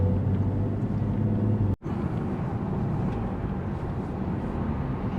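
BMW M140i on its stock tune cruising with a steady low engine and road drone, a brief dropout near two seconds, then the same even rumble continuing with no talk.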